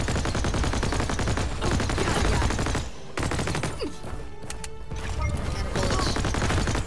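Rapid gunfire and explosions from the Jumanji video game fill the scene in dense, loud bursts, with a brief drop in the middle.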